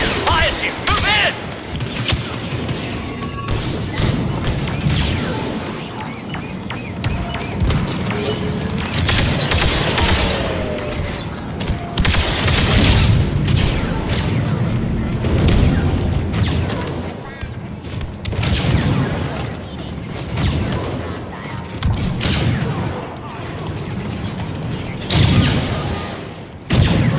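Explosions and blaster fire in the Star Wars Battlefront II Kashyyyk battle, dense bursts of shots, booms and mechanical clanks continuing throughout at loud, close range, mixed with radio-style voices talking.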